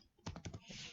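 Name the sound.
typing code on a computer keyboard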